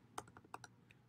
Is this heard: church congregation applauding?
no